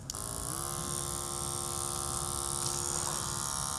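Electric hair clippers hum steadily as their blades are sharpened with a pre-filled packet of Clipp-Aid blade sharpening crystals, a constant close buzz running alone throughout.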